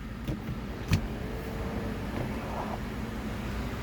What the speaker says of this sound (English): And then also a seat belt adjust right there. And this one has that panoramic sunroof with the power sunshade.